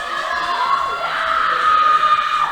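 A crowd at a girls' lacrosse game against Hanover cheers and screams loudly after a goal, a sustained burst of yelling voices that swells toward the end.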